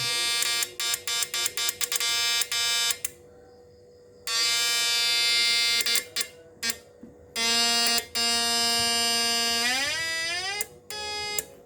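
A mini vacuum cleaner's small electric motor whines loudly in repeated bursts, switching on and off, then runs steadily with its pitch rising and dropping under changing load.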